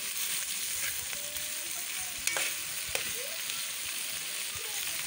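Laing cooking with fried galunggong, stirred in a pan: a continuous dense sizzle runs throughout, with a couple of brief utensil knocks partway through.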